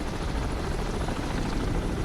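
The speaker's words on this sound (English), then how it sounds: "and I hear a helicopter" A helicopter in the Cold Waters submarine game, a steady broadband rotor drone that stays loud and even throughout with no voices over it.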